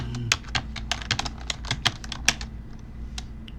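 Quick bursts of crisp keystrokes on a computer keyboard, close and clear, with an uneven rhythm of taps and short pauses and no talking.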